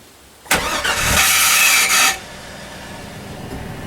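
A 2002 1500 truck engine cranking with a failing starter: a loud grinding, whirring crank lasting about a second and a half, then cutting off into a quieter steady hum, with no talk.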